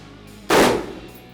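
A single sharp rifle shot at a shooting range, fired at targets, bursting loud and close then decaying with a short echoing tail after a quiet lead-in.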